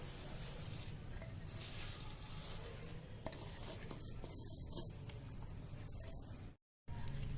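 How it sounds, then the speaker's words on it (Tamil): Chopped onion, garlic and curry leaves are mixed together by hand for thalippu vadagam, a faint steady rustling and stirring that drops out briefly near the end. "வெங்காயம் பூண்டு கருவேப்பிலை 3 போட்டிருக்கோம். இது 3ஐயும் நல்லா கலக்கிக்கணும்."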